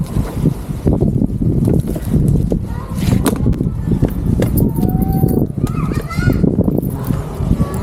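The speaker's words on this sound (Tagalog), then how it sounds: "Ang hangin diri sa amo" Steady wind roaring and buffeting a microphone outdoors, with occasional faint voices and scattered background noises underneath.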